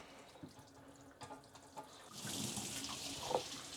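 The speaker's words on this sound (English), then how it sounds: "I'm just adding some additional water." A kitchen sink tap runs to add water, with the sink fitted with an InSinkErator garbage disposal. Quiet clicks and drips come first, then a steady, close-up gush of running water fills the last half.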